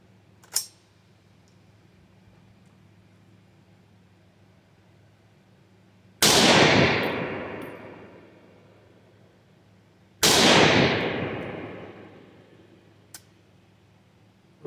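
A Ruger SFAR rifle fires two loud, close shots several seconds apart, each a sharp crack followed by a long echoing boom that fades outdoors. A brief click sounds near the start and another small tick comes later.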